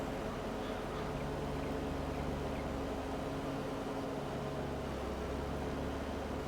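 Farming Simulator 22 mower running steadily, a constant droning engine hum with broadband noise throughout, moderately loud and unbroken, no voices.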